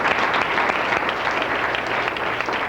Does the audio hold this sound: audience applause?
yes